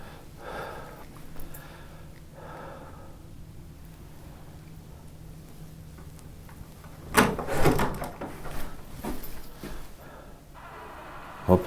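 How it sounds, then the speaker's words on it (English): Unexplained knocking during a paranormal investigation: a few dull, close thuds and a cluster of sharper raps arrive after a stretch of quiet room noise and faint breathing. "Goldie, was that you knocking on something? Is that what that was"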